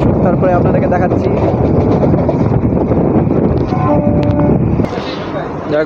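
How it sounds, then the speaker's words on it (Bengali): An EMU train on the Ranaghat–Bangaon line pulls into Majhergram station with a loud rumbling roar that eases near the end, with brief tonal squeals and someone talking over it. "আমাদের ট্রেন এসছে মাঝের গ্রাম স্টেশনে।"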